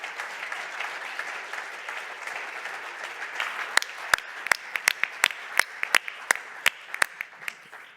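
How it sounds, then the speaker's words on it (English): Closing-remarks audience applauding the production team, a steady wash of many hands clapping that gives way to a few louder, sharper individual claps near the end. "Can we get one big round of applause for all the production team?"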